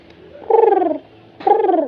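A human voice mimics the soft cooing of Star Trek tribbles, two close, loud, warbling coos that drop in pitch, each about half a second long, with a brief pause between them.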